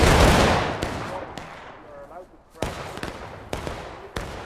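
A massed musket volley from a line of soldiers in the Civil War game War of Rights opens with a loud crack and rolling echo. Several scattered single shots follow.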